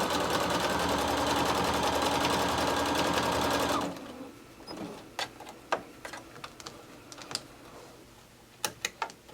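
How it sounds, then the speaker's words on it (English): Sewing machine stitching piping along a purse handle runs in a fast steady whir for about four seconds, then stops, leaving faint clicks and handling taps. "we're going to sew that same stitch down the other side of the handle"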